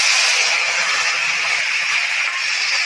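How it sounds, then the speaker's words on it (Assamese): Sour tenga sauce hitting a hot pan of fried potatoes gives a loud, steady, broadband sizzle that holds evenly throughout without break. "এই টেঙাখিনি মই ঢালি দিছোঁ ৰ'ব।"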